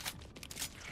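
Magazine change during a gun reload in a sci-fi shooter game about alien hordes, heard as a quick run of faint metallic clicks and rattles over about a second.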